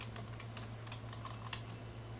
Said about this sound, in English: I am typing Facebook here